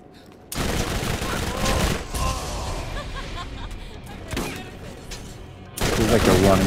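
Bone Shredder Tediore SMG fire in Borderlands: loud, dense automatic bursts that run almost continuously, briefly easing before a heavy burst at the end.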